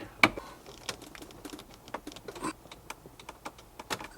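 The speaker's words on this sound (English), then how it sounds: "I found a little longer ratchet, so now maybe we'll have some more torque." Ratchet turning on the steering wheel bolt of a Mercedes S65 AMG, a quiet run of rapid ticking clicks in short irregular bursts, close and faint, with no talking.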